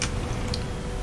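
Inside a Leopard 2A4 tank in War Thunder, the autoloader carousel turns during a reload, giving a faint steady ticking under a constant low engine rumble.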